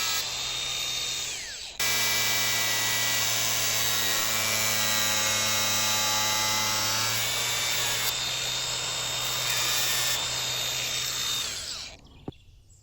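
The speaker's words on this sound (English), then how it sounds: "I'm going to just nip the top off these with an angle grinder" An angle grinder whines loudly and steadily while cutting the tops off fasteners on an old wood shed, one long continuous cut with a brief stop and restart near the start before spinning down at the end.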